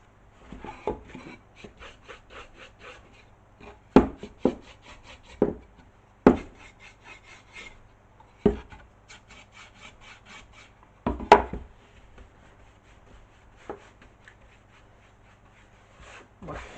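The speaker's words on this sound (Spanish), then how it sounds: "aplico la cera metiéndome bien en toda la trama de la madera." Wax is worked by hand into the grain of a wooden piece, giving soft, repeated rubbing strokes with a few sharper scrapes against a quiet background.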